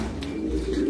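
Fancy pigeons at a pigeon loft give a short, soft low coo over a steady murmur of background noise.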